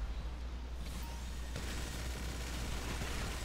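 Gunfire bursts from a video game over a steady low rumble, with a sharp shot partway through and continuous noisy background action.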